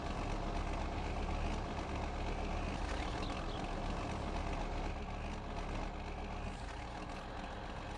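A 180-horsepower tractor engine in Farming Simulator 19 runs at a steady idle, a continuous low rumble that holds even and unbroken throughout.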